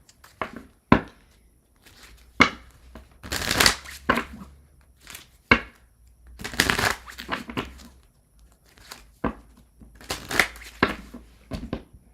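Tarot cards being shuffled over and over, with crisp riffling bursts and soft taps between them, close by and moderately loud.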